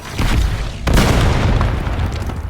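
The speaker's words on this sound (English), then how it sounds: "Incoming flashbang!" A flashbang detonates in the Call of Duty Black Ops 7 multiplayer game, a loud, close burst that spikes suddenly mid-clip over dense battle noise and a rumbling low boom.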